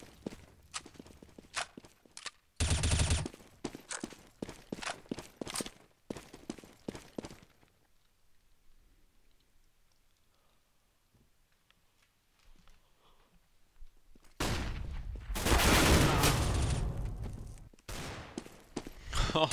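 Counter-Strike gunfire on the de_inferno map during a Cloud9 versus Epsilon match: sharp bursts of shots and clattering footstep-like clicks, then a quiet stretch, then a loud dense volley near the end.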